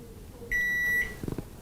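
Microwave control panel giving one long, clear electronic beep as the control lock is released, followed by a few soft low clicks, with nobody speaking.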